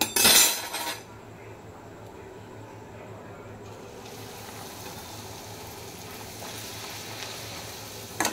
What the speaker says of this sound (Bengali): প্রথম লুচিটা দিলাম তেলের উপরে